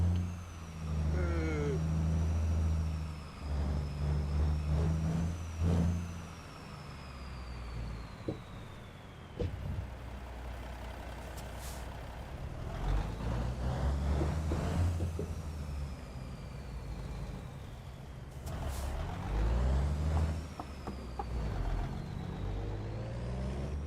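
A heavy truck hauling a trailer in American Truck Simulator drones with a low rumbling engine that revs and shifts, a steady rattle and whir over about twenty seconds, with brief hisses and a faint voice.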